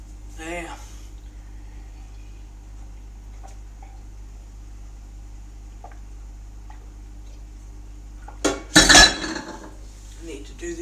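Dishes and cutlery clink in a home kitchen: a couple of faint taps early on, then a sharp loud clatter of crockery near the end, against a quiet background hum with soft speech at the start.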